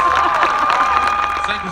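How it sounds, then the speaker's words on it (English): A graduation audience claps and cheers, a loud mix of clapping, shouts and crowd noise with a sustained tone running through it, heard briefly and close. "Can you guys give a round of applause for my"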